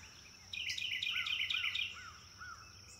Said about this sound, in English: Hawk.